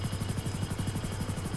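A helicopter in the video game Grand Theft Auto Online, during the Cayo Perico heist, gives off a steady, rapid rotor chop and faint turbine whine at moderate distance with no voices.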